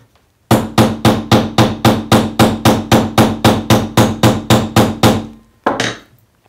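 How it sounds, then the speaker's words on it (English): A combination texture hammer strikes metal in a fast, steady run of about twenty loud, sharp blows with ringing decay, close up and alone, ending with one last separate hit after a short pause. "you can turn the hammer so you don't get every single hammer blow square on"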